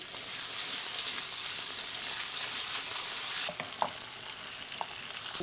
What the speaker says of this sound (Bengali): এটা একদম স্লো হিটে এখন এটা আমি গ্রিল করছি।